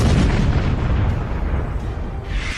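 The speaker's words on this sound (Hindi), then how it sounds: "दिन में नीले खुले आसमान को स्याह कर रहे हैं ईरान के मिसाइल धमाके" Iranian missiles explode over Israel, a continuous heavy rumble of blasts and booms that stays loud throughout with no talk.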